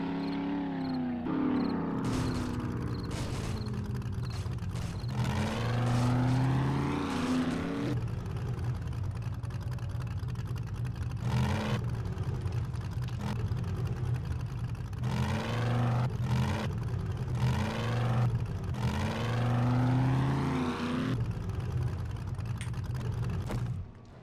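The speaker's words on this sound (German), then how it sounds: "Wir fahren mal eben heim." An engine drones steadily as a car drives in the video game 7 Days to Die, rising and falling in pitch through repeated revving cycles over a continuous hum, with no talking.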